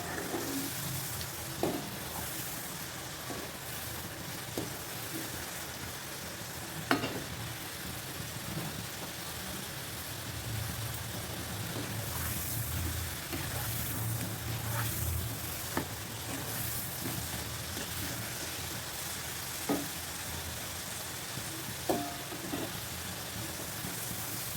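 Potato french fries frying in hot oil, a steady close sizzle and bubbling that continues throughout, with occasional light clicks of stirring and no talk.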